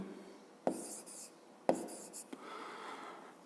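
Hand-writing the number 364 for a long-division problem in a fifth-grade maths exercise: a few short pen or chalk strokes with scratchy taps against a quiet background, close and fairly faint.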